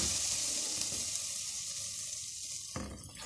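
Flour is stirred and roasted in a pan for a chicken lasagna, giving a continuous soft sizzle with light scraping, ending in a brief louder scrape.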